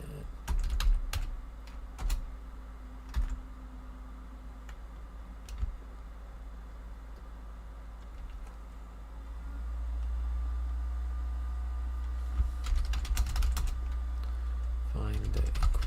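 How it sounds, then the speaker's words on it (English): Typing on a computer keyboard at a desk, with bursts of quick clicking keystrokes close by, pauses between runs, and a steady low hum in the room. "I'll just start working, typing up the next question"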